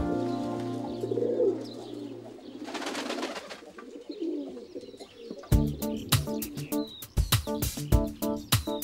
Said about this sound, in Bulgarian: А гълъбът е свещена птица.